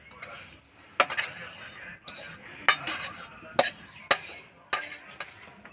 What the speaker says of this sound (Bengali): এই যে তিল ভাজা হচ্ছে, কি সুন্দর গন্ধ বেরিয়েছে।